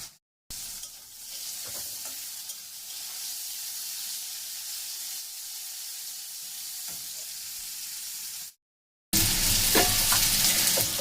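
Bitter gourd slices fry in hot oil, a steady loud sizzle with occasional stirring scrapes, cutting briefly to silence before a brighter, harsher hiss resumes.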